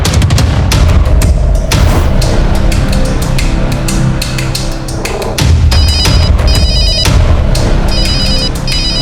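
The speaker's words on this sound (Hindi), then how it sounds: "लड़की के पति का फोन आ रहा है। अरे मौत की घंटी है यो, उठाइए मत" A telephone rings for an incoming call, loud and insistent in repeated ringtone bursts, layered over a dense, booming dramatic music bed with no talk.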